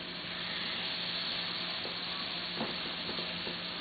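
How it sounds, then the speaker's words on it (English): Steak sears on a stovetop in a warm pan, giving a steady close hiss and crackle with a few light utensil clicks and stirs partway through. "we're going to sear the steak on the stove"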